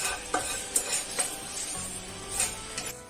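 Fresh curry leaves and spices roasting slowly in a pan over a low flame, giving a soft steady sizzle with light scraping and stirring clicks.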